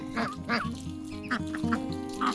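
Muscovy ducks mingling with a mixed flock of domestic ducks give repeated honking calls in short bursts, fairly close and loud over a steady low background hum.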